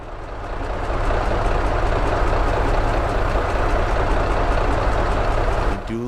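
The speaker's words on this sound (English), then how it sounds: "God, the engine on this is something loud." A loud cab-over truck engine idles in American Truck Simulator, a steady deep rumbling drone that holds for several seconds and then cuts off near the end.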